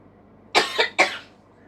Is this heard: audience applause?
no